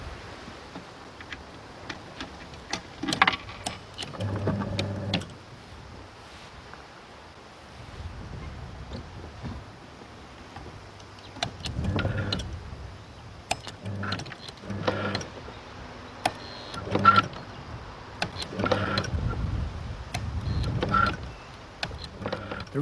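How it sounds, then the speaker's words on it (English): A homemade nutcracker machine with a relay-controlled motor runs in intermittent bursts of whirring and mechanical clatter, with quieter gaps between cycles. "This is a nutcracker I made for an exhibition."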